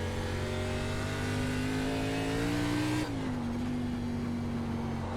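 An ARCA Menards Series race car in the iRacing sim roars loud and continuous under throttle, pitch climbing before a quick drop at a gear change, then building again.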